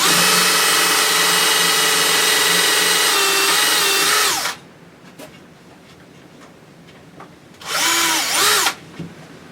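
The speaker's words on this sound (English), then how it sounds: "Now I'm going to put the drill hole for the brace." A power drill boring into wood whines steadily for several seconds, its pitch dipping as it bites, then stops; after a quiet pause with small knocks, another short burst.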